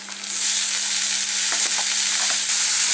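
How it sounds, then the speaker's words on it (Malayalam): Onion sautés in hot oil with ginger and garlic for a Kerala vegetable samosa filling, making a loud, dense, unbroken sizzle with light stirring scrapes and a low steady hum. "സവാള ഒന്ന് നന്നായിട്ട് വഴന്നു വരണം."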